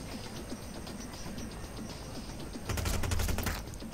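Gunfire in Hitman: Blood Money, a short rapid burst of automatic shots near the end, rising out of a steady hum of background ambience.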